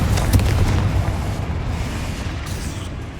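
A Confringo blasting spell from a Harry Potter video game bursts in a loud, boomy explosion, rumbling heavily up front and trailing off into a sustained roar with no one talking.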